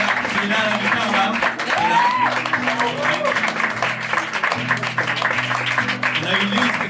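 Clapping from a crowd at a casual music event runs throughout, moderately loud and steady, with talking and a low sustained musical hum beneath it.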